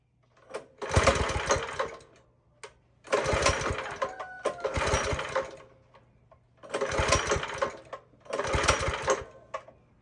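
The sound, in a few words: Baja Heat mini bike small engine starting and running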